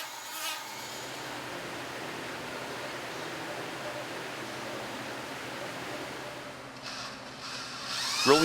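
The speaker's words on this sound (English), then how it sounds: "Drilling the eye hole with a specialized bit." A steady, high-pitched drill whine runs continuously up close as a specialized bit drills an eye hole in a wooden duck decoy, followed by a short change in tone and a scraping sound at the end.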